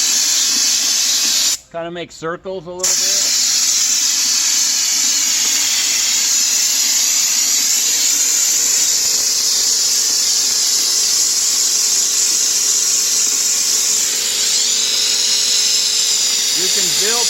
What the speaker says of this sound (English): all we're using is this little hopper from Home Depot